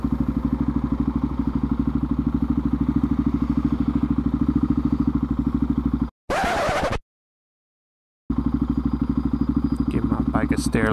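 A motorcycle engine runs steadily and close up during a motovlog ride, with a brief cut to silence partway through before the engine drone returns; a rider talks over it.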